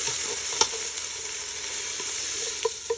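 Onions sizzle steadily in a pot for chicken soup, a continuous frying hiss with a few sharp stirring clicks of a spoon against the pot, close and without talk.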